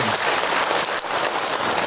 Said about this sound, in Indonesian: Tepuk tangan buat ibu-ibu.